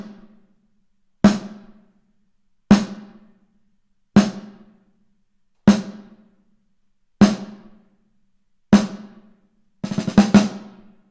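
Snare drum hits land at a steady pace, each crisp crack trailed by a short, subtle reverb tail from an empty shed used as an echo chamber, mixed with the dry snare; a quick flurry of strikes closes it.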